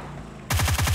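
Rapid automatic gunfire on the PUBG Mobile training range starts suddenly after a quiet moment, as a steady, evenly spaced string of loud, close shots.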